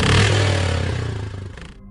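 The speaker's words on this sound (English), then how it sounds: "I heard the low grrrah of a motorcycle pulling up" A motorcycle engine rumbles low and close with a rough, steady idle-like growl, easing down and fading out after about two seconds.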